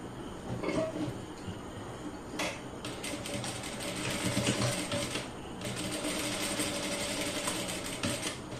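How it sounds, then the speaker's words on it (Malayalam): A sewing machine stitches a folded fabric hem with a one-inch allowance, running steadily with a fast mechanical rattle that picks up in bursts, fairly close, no voices. "എന്നിട്ട് 1 ഇഞ്ച് വിട്ടിട്ട് നമുക്ക് സ്റ്റിച്ച് ചെയ്യണം"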